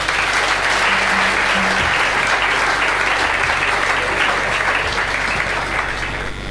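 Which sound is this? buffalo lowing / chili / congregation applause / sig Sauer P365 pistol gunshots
congregation applause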